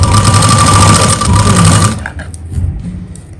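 A sewing machine runs fast and steady, stitching lace onto the plain sleeve of an embroidered suit, loud and close, then stops abruptly partway through, leaving softer handling noises.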